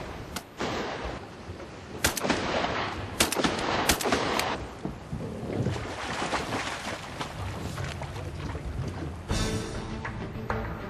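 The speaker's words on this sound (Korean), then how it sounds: "그러나 총소리만으로는 유해조수를 쫓을 수는 없는 일이다." Sharp gunshots fired to scare mallard ducks from a seaweed farm crack out in scattered bursts, several close together, over a dense, noisy outdoor background with no talking.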